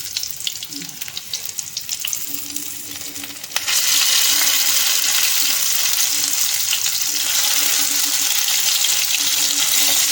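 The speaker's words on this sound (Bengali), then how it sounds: "এইভাবে আমরা সবগুলো ভেজে নেব" Kasundi chicken pakora frying in hot oil, a steady loud sizzle that swells after a few seconds and holds, with soft background clatter.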